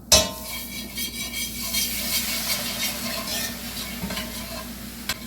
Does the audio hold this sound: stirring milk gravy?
yes